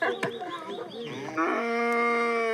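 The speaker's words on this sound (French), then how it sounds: "Près du village, les vaches sont là." Cattle near a village in Ethiopia's Omo valley moo: one drawn-out, rising, resonant low call after some brief lowing and shuffling, fairly close and clear, with no talk.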